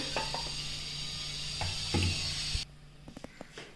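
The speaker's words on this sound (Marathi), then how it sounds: "तेल गरम झाले जिरे घालते त्यानंतर खडे मसाले घालते" Cumin seeds and whole spices sizzle in hot oil in a pressure cooker while pulao is being cooked, giving a loud, steady crackling hiss with a few utensil clinks. The sizzle cuts off abruptly near the end, leaving only quiet taps.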